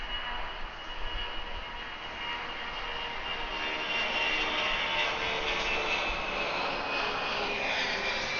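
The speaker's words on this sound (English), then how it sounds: "These 757s always climb like a rocket." A Boeing 757 jet climbs out after takeoff at Atlanta airport, its engines roaring in a loud, sustained rush with a high whine that slowly shifts in pitch.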